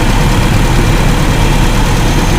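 A car engine idles at low RPM, a loud, steady, close droning rumble that holds unchanged throughout.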